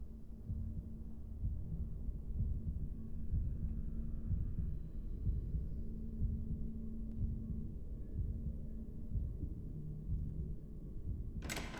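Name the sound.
heartbeat in the video game Boris and the Dark Survival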